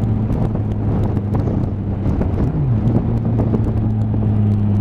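A Nissan GTR engine drones steadily while driving, a low sustained tone shifting pitch briefly as the throttle changes, heavily mixed with continuous wind buffeting on the microphone.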